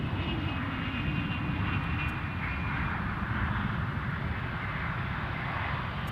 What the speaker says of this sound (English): Loganair from Southampton coming in sooner